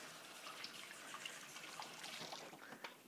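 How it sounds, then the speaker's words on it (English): Hands are washed under a running kitchen tap: a faint, steady trickle and splash of water close by, with no talk over it. "gonna wash my hands again"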